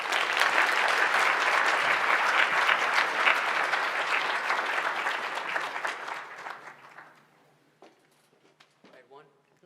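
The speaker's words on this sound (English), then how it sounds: "One more big round of applause for Mr. Jaiswal." An audience at the 2021 Akshaya Patra Gratitude Gala breaks into dense, sustained applause that tapers and dies away after about seven seconds, leaving a few scattered claps.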